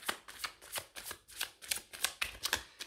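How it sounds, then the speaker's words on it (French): Tarot cards shuffled by hand at close range, with a quick, regular series of riffling bursts and no talking. "Je vais remettre des cartes."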